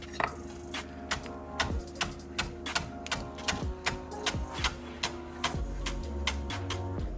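A knife finely chopping potato on a cutting board, a close, steady run of sharp rhythmic taps, about two per second, with no talk over it.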